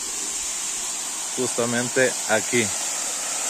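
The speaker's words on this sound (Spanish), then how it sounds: "Llegamos a la primera cascada" Steady, broad roar of the first cascade of the Las Dudas waterfalls in Azuay, Ecuador, filling the whole clip, with someone speaking briefly over it partway through.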